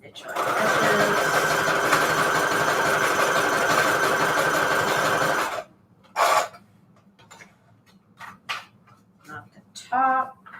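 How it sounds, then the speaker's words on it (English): Sewing machine running a zigzag stitch along page edges for a Christmas junk journal pocket, a loud steady motorized whir for about five seconds, then stopping, followed by scattered handling noises and brief talk. "so zigzag stitch on edges"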